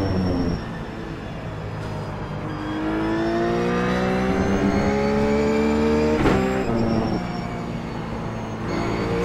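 A Ruf GT3 race car on track at Laguna Seca in iRacing, its engine rising steadily in pitch through the gears with loud, continuous revving and brief shift breaks, heard from close onboard.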